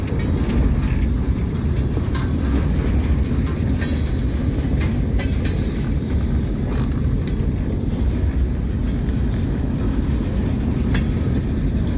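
A train rumbles steadily on a railroad track, with continuous low-frequency rolling noise and occasional faint clanks and clicks, loud and close throughout with no talking.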